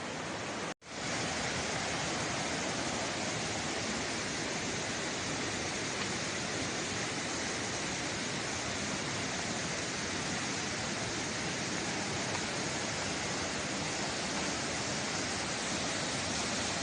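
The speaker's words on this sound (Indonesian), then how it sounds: "Ini air terjun Sekar Langit." The Sekar Langit waterfall on Mount Andong roars as a steady, dense rush of falling water, close and loud, continuous after a brief cut at the very start, with no voices over it.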